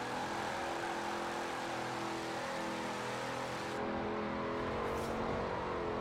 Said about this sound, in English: I can burn the tyres as much as I want